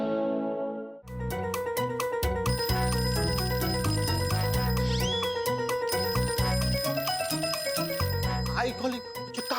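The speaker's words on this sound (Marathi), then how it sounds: "अरे इकडे बेल वाजते" A mobile phone rings with a repeated bright electronic ringtone melody at steady volume, with a person talking over it.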